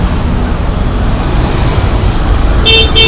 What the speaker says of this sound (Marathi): काय एवढं सगळं ट्रॅफिक आहे.